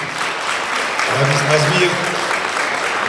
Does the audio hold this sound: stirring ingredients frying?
no